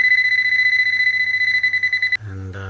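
A loud, steady electronic beeping tone from a Deteknix Scuba Tector underwater metal detector pulses rapidly and continuously, then cuts off abruptly and shifts to a lower buzzing tone.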